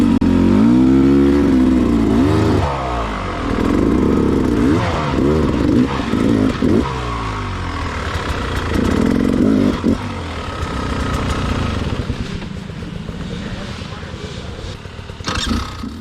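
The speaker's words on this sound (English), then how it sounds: "Fire up the bike, we go 2 feet." A hard enduro motorcycle at a rough off-road race revs hard in loud, rising and falling bursts, close by, then drops to a lower idle with some clatter and faint voices toward the end.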